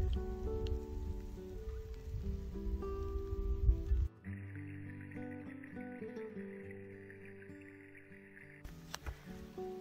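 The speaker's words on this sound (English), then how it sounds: "it started raining a little bit. You can see some of the raindrops in the lake." Light rain falls onto a lake along a hiking trail, a soft steady patter of drops on the water that carries on without any talk.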